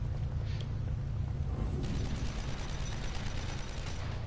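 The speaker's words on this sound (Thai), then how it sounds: "เฮ้ยใครยิงปืนอยู่วะ" Gunfire within The Evil Within video game, a muffled, rumbling spread of shots heard in a cave setting, low and continuous with a dense booming bed throughout.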